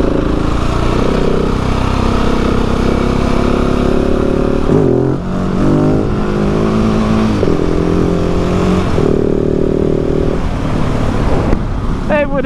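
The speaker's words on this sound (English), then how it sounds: "It wouldn't be a 20 moto video without a shit wheelie" Motorcycle engine revving hard during a wheelie on a UK biking road, a loud continuous roar with rising and falling pitch sweeps, under heavy wind noise throughout.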